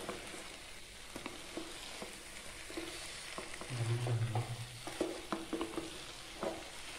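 Coconut mixture stirred in a pan, giving soft scraping strokes and light sizzling that rise briefly, with faint kitchen background and no talk.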